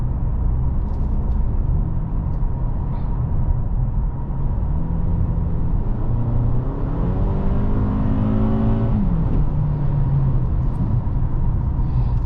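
A 2023 Toyota Camry XSE with its 4-cylinder engine accelerates, heard from inside the cabin as a steady drone whose pitch sweeps upward through the gears over several seconds, with road noise underneath.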